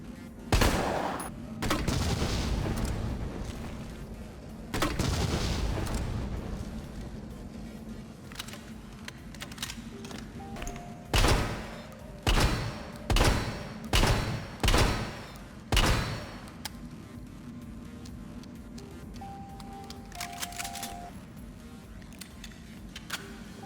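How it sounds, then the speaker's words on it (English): Gunfire and reload animation sounds in a modded Resident Evil 3 Remake: loud single shots and short bursts early, quieter mechanical handling and clicks in between, then a rapid series of six sharp evenly spaced shots, with faint game ambience throughout. "Here is me shooting and showing the reload animation."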